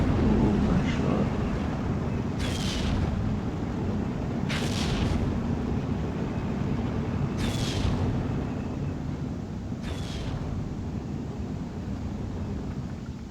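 Artillery and mortar fire in the World War II strategy game Steel Division 2: four sharp booming blasts at even intervals over a dense, constant rumble of battle, with someone talking underneath.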